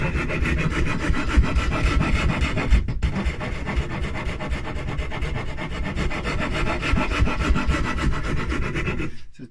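A file carves into the wood of a painted guitar body with continuous, dense rasping strokes, close and loud, pausing only briefly once before running on to an abrupt stop.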